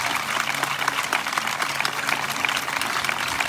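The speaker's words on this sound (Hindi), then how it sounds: "वाली साहब के लिए तालियां बजा सकते हैं आप?" A church congregation at a revival meeting claps steadily for a pastor, a dense, even burst of applause filling the hall without pause.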